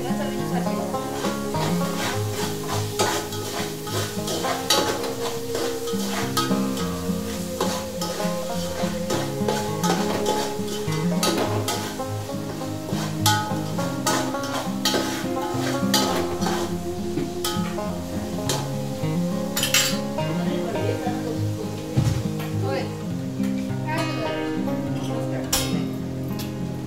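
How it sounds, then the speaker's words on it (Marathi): Onion frying in a pan while being stirred, with a soft sizzle under repeated clinks and scrapes of a spoon against the pan over a long stretch, no talk. "तर आता आपला कांदा झाला आहे भाजून"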